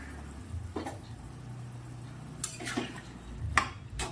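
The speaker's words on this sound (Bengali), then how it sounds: "একটু ভালো করে নেড়ে ভালো করে ফুটিয়ে নেব যাতে লবণ মশলা ঝালটা আলুর মধ্যে ঢুকে যায়" Boiled potatoes are stirred into a spiced curry gravy in a pot, faint spoon scrapes and a few light clinks of metal sounding over a soft, low simmer.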